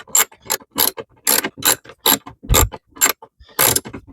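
A T40 Torx driver tightening screws into a 12-volt socket on a BMW i3, heard as close, rhythmic ratcheting clicks in about eight short bursts with brief pauses between them.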